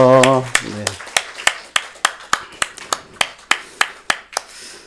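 A voice speaks briefly, then a church congregation at a Sunday morning service claps together in a steady unison rhythm, roughly fifteen sharp, evenly spaced claps.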